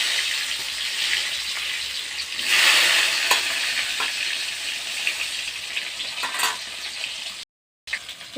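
Tomato hits mustard oil tempered with whole garam masala, dried red chillies, bay leaf, cumin and panch phoron, giving a strong close sizzle with stirring scrapes and bursts of spattering, then a brief cut to silence near the end.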